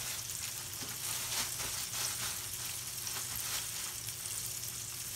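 Flour-coated quail frying in a skillet of hot oil, an even dense sizzle that carries steadily throughout, close and without any talk.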